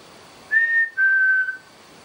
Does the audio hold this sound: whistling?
yes